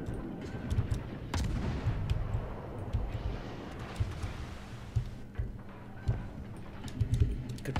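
Warship guns fire in the naval combat game World of Warships. Repeated muffled booms rise over a dense, rumbling battle backdrop, with several salvos spaced irregularly across the scene.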